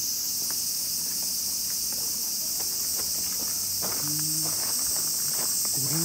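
Cicadas at a Shinto shrine in Japan keep up a loud, continuous high drone through the whole stretch, while footsteps shuffle nearby and a brief low voice is heard.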